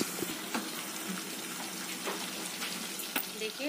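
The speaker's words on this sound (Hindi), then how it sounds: "बस थोड़ी सी पानी डालेंगे, थोड़ा सा पानी डालेंगे इसमें" A little water is poured into a pan of white egg korma, producing a steady close splashing gush mixed with a faint cooking sizzle throughout.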